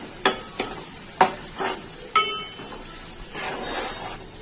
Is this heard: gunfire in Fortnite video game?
no